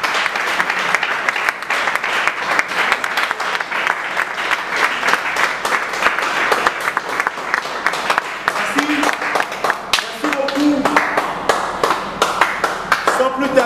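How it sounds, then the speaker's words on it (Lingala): An audience at a ceremony applauds strongly, producing dense, sustained clapping close by, with a voice speaking over the applause in its later part. "je vous prie d'applaudir cette manifestation très très fortement"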